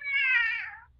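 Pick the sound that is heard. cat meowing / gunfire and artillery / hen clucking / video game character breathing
cat meowing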